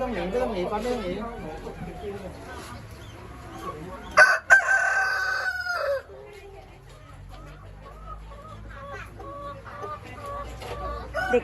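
Hens cluck and a rooster crows loudly partway through as children feed them by hand at a play farm, with chatter from people mixed in among the farmyard sounds.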